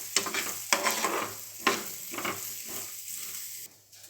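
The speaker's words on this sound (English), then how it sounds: "And continue frying." Roasted moong beans frying in 2 to 3 teaspoons of oil while being stirred, with a steady sizzle broken by several sharp scraping strokes of the spoon across the pan, close and clear, easing off toward the end.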